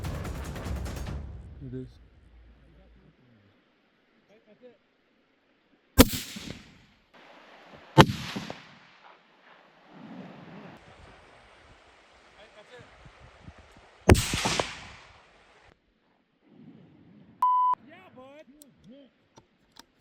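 Gunshots during a moose hunt in the Alaskan backcountry: two or three loud, sharp reports spaced several seconds apart in open quiet, with people talking between the shots.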